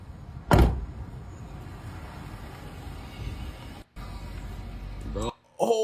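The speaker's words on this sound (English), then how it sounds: "I'm gonna shut the door for you." Car door shut once near the start with a loud thud, followed by steady roadside rumble and a brief clunk near the end.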